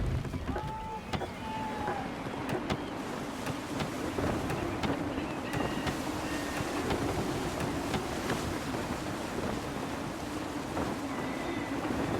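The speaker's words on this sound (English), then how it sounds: "Gusty winds can be difficult to manage." Gusty wind blows across a sailing ship at sea in Assassin's Creed 3. A steady rush of air and water runs throughout under creaking, with faint game sounds and occasional voices mixed in.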